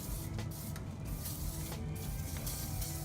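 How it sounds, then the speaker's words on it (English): Degreaser sprayed across a car engine bay near the distributor, a steady continuous hiss of aerosol spray running throughout with faint mechanical clicks and creaks. "you might need to spray a little bit more, stronger degreaser on it"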